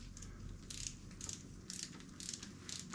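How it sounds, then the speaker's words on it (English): An inch-pound torque wrench ratchets while tightening clutch bolts on a KTM 350SX-F, about five quick bursts of faint clicking spaced evenly apart over a low steady hum. "got the inch-pound torque wrench here"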